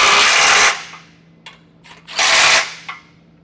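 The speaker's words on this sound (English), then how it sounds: "you can take your 15mm and snug all the hardware down" Power tool with a 15mm socket snugging down bolts on a Roadmaster crossbar-style base plate kit on a 2024 GMC, in two loud bursts of rattling impact with quieter gaps and small clicks between.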